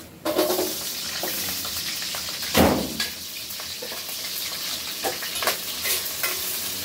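Carrots and potatoes fry in cooking oil with a constant crackling sizzle, one louder splash-like burst early on, and occasional utensil clinks and stirring scrapes.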